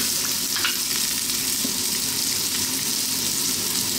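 Ginger, garlic and onion sizzle in oil in a very hot pan, a loud, steady hiss of frying that fills the whole stretch, with a few soft stirring knocks close by and no voices.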